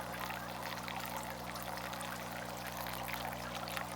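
Water pours steadily out of a garage walleye hatching setup in a continuous broadband rush, with a low steady hum running beneath it throughout.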